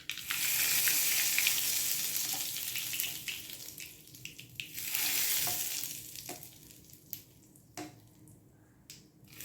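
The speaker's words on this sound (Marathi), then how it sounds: "चटणीला आपण वरतून तडका देणार आहोत" Hot oil tempering sizzles loudly as it is poured over chutney for aappe, a dense crackling hiss that swells, eases, surges again, then breaks into scattered pops and spits.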